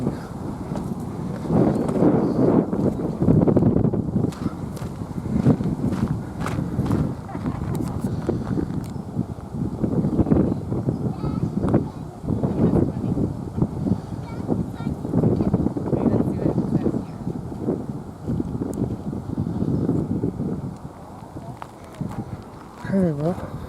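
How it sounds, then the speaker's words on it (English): Gusty wind buffets the microphone in uneven bursts while people talk over it, with occasional footsteps. "Oh, it's windy right here"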